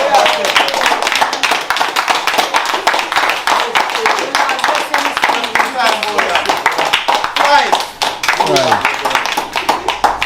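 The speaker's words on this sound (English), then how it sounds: "clap her again, man." Crowd clapping for Miss E at a TrenchTown, Kingston community gathering, with sustained dense hand claps under and alongside continuous talking voices throughout.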